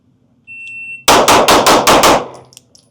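A Staccato C4X pistol fires six rapid, evenly spaced shots at targets in about one second, sharp and loud, following a brief electronic timer beep, with a faint clatter after the string.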